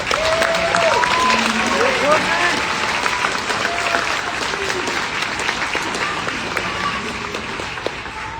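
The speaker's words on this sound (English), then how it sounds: "let's give them a round of applause" A crowd applauds steadily and loudly, with scattered whistles and cheers over the clapping.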